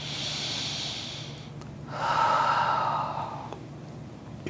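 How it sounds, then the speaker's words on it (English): During a yoga hip-stretching session, a person takes one slow, audible breath, a long airy inhale followed by a fuller, louder exhale, heard close up and alone. "we'll just take another breath here"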